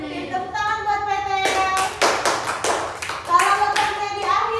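A school class claps for a student in an Indonesian lesson, a burst of several sharp, fairly close handclaps in quick rhythm over a few seconds, with a teacher's voice before and around it.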